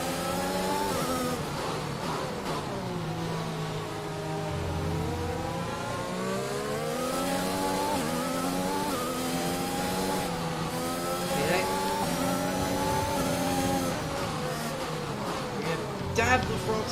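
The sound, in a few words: F1 car engine revving in F1 2021 video game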